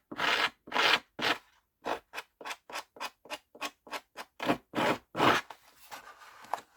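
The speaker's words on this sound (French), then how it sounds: "je vais voir si je sais gratter. Pour faire un effet abîmé." Paper pages are scratched to give them a worn look for a Halloween class photo board, heard as a series of close, dry rasping strokes in a quick, fairly regular rhythm, with short pauses between them.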